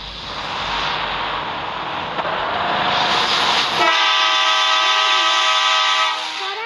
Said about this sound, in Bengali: শান্তা রেলওয়ে স্টেশনে কক্সবাজার এক্সপ্রেস দাঁড়ায় আছে